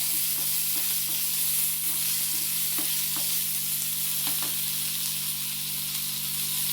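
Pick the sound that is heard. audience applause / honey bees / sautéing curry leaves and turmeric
sautéing curry leaves and turmeric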